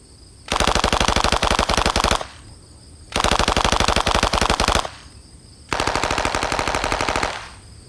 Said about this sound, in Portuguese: Esta é a submetralhadora Thompson.